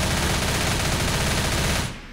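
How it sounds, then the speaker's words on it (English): A dense, loud stream of automatic gunfire rattles nonstop in Left 4 Dead, then cuts off sharply at the end. "Terry just casually shooting it up."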